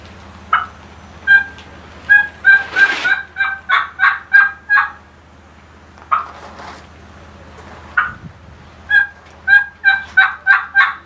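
A turkey call imitates a wild turkey's gobble at an open-division turkey calling contest, loud and close, in two runs of rapid, rhythmic yelps with a brief pause between them.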